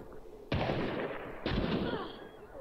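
Two loud, sharp gunshots about a second apart from an enemy team in the video game Hunt: Showdown, each with a booming tail and ringing decay, and no talk over them.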